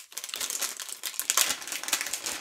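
Cables are pulled out of crinkly plastic packaging during a Firestick 4K and Ethernet setup, giving close, busy rustling and crackling with brief sharper crunches throughout.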